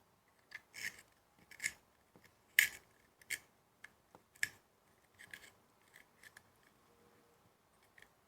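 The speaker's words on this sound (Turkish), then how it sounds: "Oo, kalem tıraş bayağı iyi." A pencil being sharpened in a small handheld pencil sharpener, giving a series of close, quiet scraping and clicking strokes in short irregular bursts with no talk.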